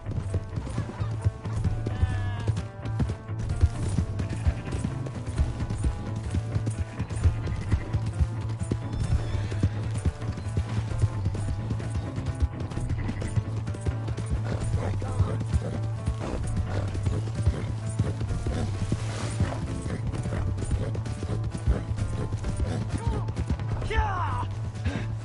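Horse hooves gallop in a video game with a continuous, rapid clip-clop rhythm that stays close and loud throughout. A horse whinnies, and voices talk over the hoofbeats at times.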